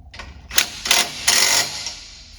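A ratchet with a 3/4 inch socket tightens a bolt behind the seat of a 2024 XP 1000 during a tree kicker install. Three short bursts of clicking ratcheting come up close, with quiet gaps between them.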